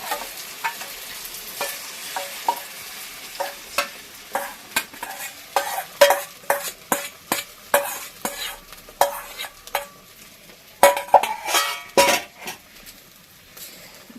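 Eggs fry in a pan, an omelette with chopped onion, as a spoon stirs them in a quick irregular series of scrapes and taps over a soft, low sizzle, close by.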